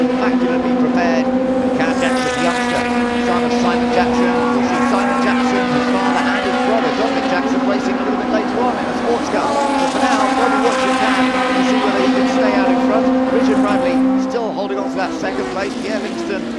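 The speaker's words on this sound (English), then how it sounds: "as we all enjoy seeing some older racing cars going absolutely flat out" Historic Formula Junior racing cars from the late 1950s and early 1960s run flat out in a classic race, a loud, continuous engine roar with steady high revving and overlapping cars passing close by.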